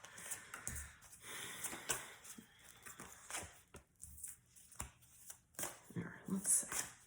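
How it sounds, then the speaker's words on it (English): Close, crisp riffling and flapping of tarot cards being shuffled in quick bursts, soft and intermittent. "let me shuffle it because I didn't shuffle and it just fell."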